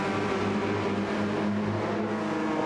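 Porsche and AMG race cars drone around the Sardegna circuit in a racing video game, a steady, loud engine whine holding a fairly constant pitch throughout, with no voices.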